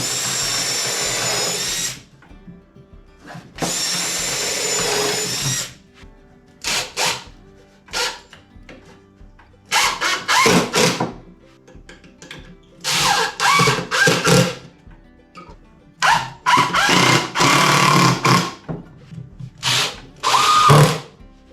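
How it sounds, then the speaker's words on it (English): Power drill boring several pilot holes through wood for a workshop dust collector build, in repeated short bursts of whirring with brief pauses between, close and fairly loud. "So I'm going to put some pilot holes straight here."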